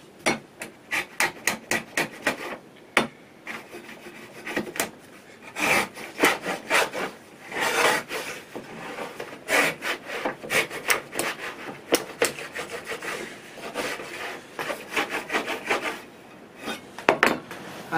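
A Saker chamfer plane shaves a chamfer along a piece of MDF in repeated short rasping strokes, close and crisp, with brief pauses between passes and no talk.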